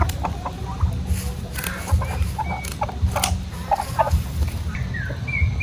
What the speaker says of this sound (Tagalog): Yan, kita nyo po yung ating mga manok oh.